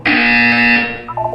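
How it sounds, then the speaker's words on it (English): A loud, harsh electronic buzzer in the video game Portal 2 sounds once, held for about a second before cutting off, with a brief fainter tone after. "You will hear a buzzer."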